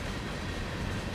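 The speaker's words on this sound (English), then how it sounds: "if you are wondering why the rail cars do sound different, I have a mod installed right now by Krellnut." Modded rail cars roll along the track in a Marias Pass train simulator game, a steady close rumble of wheels on rails with faint clickety-clack, heard alone without talk.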